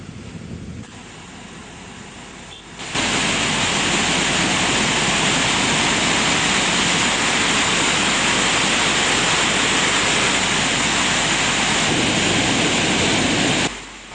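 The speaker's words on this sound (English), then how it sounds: "Water flowing from the Parakrama reservoir was released to the Mahavali reservoir" Water pours loudly and continuously from the opened spill gates of the Parakrama reservoir in Sri Lanka, a steady broadband roar of rushing flow that swells up after a quieter opening few seconds and holds close and dense, with no voices.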